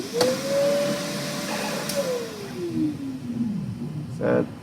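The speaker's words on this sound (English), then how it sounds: "So we're priming the next print head, I think T5 now" An H-Series multi-material 3D printer primes its next print head, a steady motorized whine that glides upward, holds, then slowly falls, with a couple of short clicks and a brief mechanical burst near the end.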